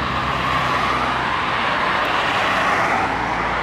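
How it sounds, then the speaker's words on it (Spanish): A loaded Scania truck with a roaring diesel engine pulls away on an open road in the Argentine pampa, a loud, steady broadband drone that holds for several seconds without a break. "hoy salen dos camiones espectaculares. Hacen un ruido bárbaro los dos."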